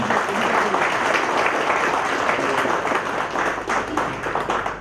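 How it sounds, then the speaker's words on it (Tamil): Audience clapping at a charitable trust general body meeting, a dense, steady round of applause from many hands filling the whole stretch, loud and close with a faint voice or two mixed in. "கைதட்டுறாங்க"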